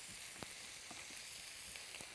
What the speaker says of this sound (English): This is just browning up real nice. I'm using ground chuck.